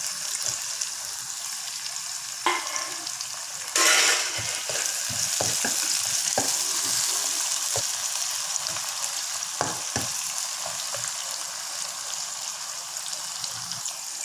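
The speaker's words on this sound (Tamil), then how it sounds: "வெங்காயம் வதக்க கொஞ்சம் உப்பு போடுறேன். இப்போ தக்காளி பழத்தை போடுறேன்." Onion and tomato frying in a pan for chicken perattal: a steady, bright sizzle runs throughout, with occasional clinks and scrapes of stirring and a short burst of added liquid hissing, close and with no voices.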